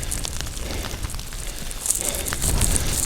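Steady rain and gusting wind roar outdoors on a mountain ridge trail, a dense, even wash of noise that swells a little toward the end, with no voices.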